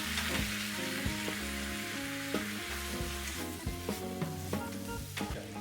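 Twice-cooked pork with vegetables, Shaoxing wine and soy sauce sizzles steadily in a hot frying pan while a utensil scrapes and stirs, with occasional clanks against the metal.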